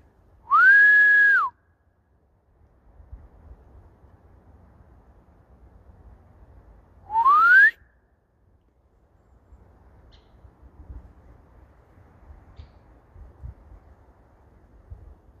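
A person whistling in a forest, two short clear whistles several seconds apart, the first a level tone and the second sliding upward, with quiet woodland ambience and faint rustling between them.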